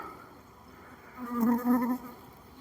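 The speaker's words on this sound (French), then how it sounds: "on a vraiment du frelon asiatique partout quoi" Asian hornets buzz around a beehive, a faint insect hum that swells to a louder, closer drone in the middle of the clip before easing off again.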